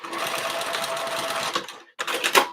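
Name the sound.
sewing machine stitching waterproof canvas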